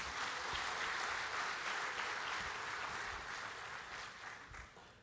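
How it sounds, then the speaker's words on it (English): Audience applause at the opening ceremony of a global financial policy forum, steady dense clapping from a large crowd that fades slightly toward the end, with no voices over it. "A round of applause, ladies and gentlemen."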